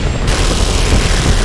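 A missile explosion in the video game Just Cause 2 lands as a loud, close boom that rolls into a sustained rumbling roar.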